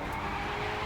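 Ford car drifting in the video game The Crew 2, a loud, steady engine roar with tyre noise lasting under a second.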